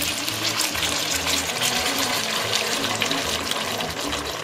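Organic vegetable broth, 32 ounces, poured into a pot while making a pompano kakavia, a continuous close, loud liquid gush and splash with no break.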